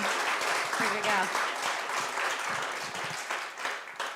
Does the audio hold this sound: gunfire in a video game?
no